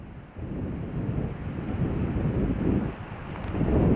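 Wind gusting at Hopewell, Nova Scotia, a steady low rumbling buffet against the microphone that swells and eases over a few seconds with no voices.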